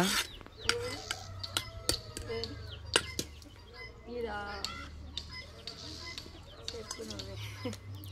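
A Silkie chicken clucks in a farmyard among other poultry, with repeated short clucks and scattered sharp clicks while people talk nearby.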